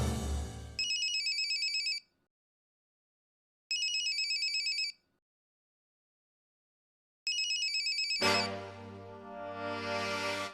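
A telephone rings late at night in an electronic ringtone pattern, three bursts separated by silence, followed by a swelling musical sting, no voices.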